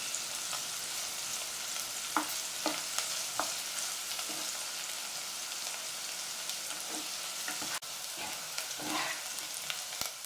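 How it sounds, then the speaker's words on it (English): Onions frying in a pan over moderate heat, a continuous soft sizzle with occasional small crackles and stirring taps, heard close with no talking. "Don't use too high a heat, otherwise the onions will go very brown far too quickly"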